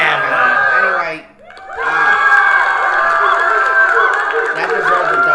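A crowd cheering sound effect on a radio show: a loud burst of shouting and whooping voices, a brief dip, then a sustained roar of cheering from many people.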